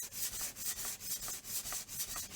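A rusty hand plane blade is rubbed back and forth on abrasive paper in quick, even strokes, about ten soft, raspy sanding passes close up with no voices.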